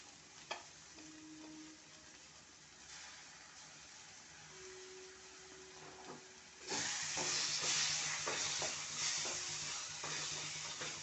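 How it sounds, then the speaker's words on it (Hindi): Baingan bharta with chopped coriander is stirred in a pan, soft scraping at first and then a louder, steady sizzle of frying in the second half, with faint intermittent clinks. "अच्छे से मिक्स कर लेते हैं और ये बैगन का भरता जो है बनकर रेडी हो चुका है"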